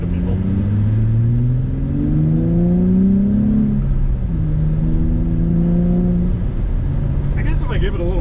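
A car engine revs up under a little more throttle in a car fitted with Dynamat sound deadening in the trunk, a steady rising and falling mid-pitched drone that runs throughout, with someone talking over it.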